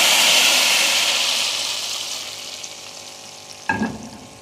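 A loud hiss as hot oil with three red chillies, cumin and curry leaves is poured into khatti dal, the sizzle bursting at first and fading steadily, followed by a short clatter of a pan or spoon.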